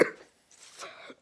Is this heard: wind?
no